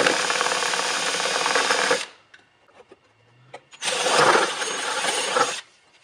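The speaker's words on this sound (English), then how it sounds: "We're going to drill through the side compartment here for the battery" A loud power drill whines through the plastic side of a Power Wheels ride-on toy's battery compartment in two sustained bursts of about two seconds each, separated by a brief quiet pause.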